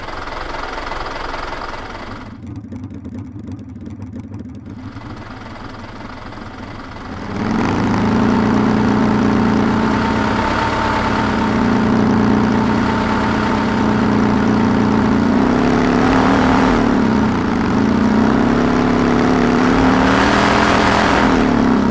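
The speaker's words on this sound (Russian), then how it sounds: "что будет, если смешать Харли Дэвидсон и трактор?" A heavy, knocking engine idles roughly, then swells into a louder, steady chugging rumble that holds and surges slightly, a Harley-Davidson motorcycle sound blended with a tractor engine.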